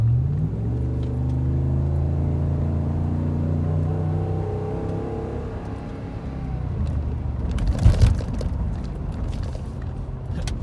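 A 2016 Ram 2500 three-quarter-ton pickup's engine hums steadily while driving, its pitch rising and falling as the throttle is modulated over bumps, with a louder jolt and rattle near the end.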